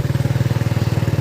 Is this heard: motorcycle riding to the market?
yes